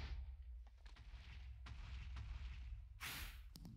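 Withers in the Minecraft arcade server Mineplex set off several booming blasts, faint and scattered, with a sharp, bright burst near the end over a low rumble.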